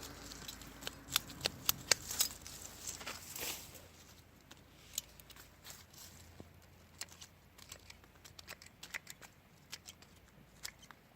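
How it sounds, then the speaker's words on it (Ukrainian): Pruning shears cutting back bigleaf hydrangea branches produce a run of sharp, close snips and clicks, some in quick bursts, over light rustling of twigs and leaves. "Обрізаю повністю."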